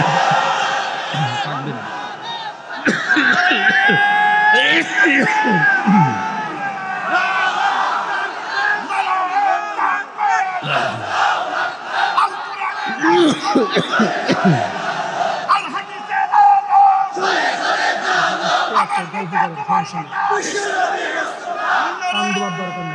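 A large crowd at an Islamic sermon roars the takbir chant in repeated loud, overlapping bursts of shouting voices, close and dense, with brief pauses between waves.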